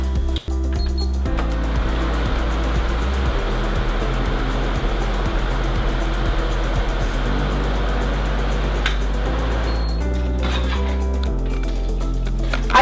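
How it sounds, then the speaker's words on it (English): An electric fan blows steadily onto a mini wind turbine, giving a continuous whirring hum with a faint rattle, even and unbroken from start to finish. "Then I'll use a fan to simulate the real wind currents that we see in today's sky."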